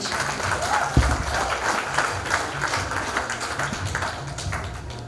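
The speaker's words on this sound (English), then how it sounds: "Let's keep the applause running, ladies and gentlemen" Audience at a women's award night applauding, a continuous roomful of clapping with a few sharper individual claps standing out near the start.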